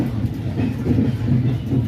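Passenger train leaving St. Louis, a steady close rumble with rhythmic clickety-clack of wheels on rail joints, heard from inside the car.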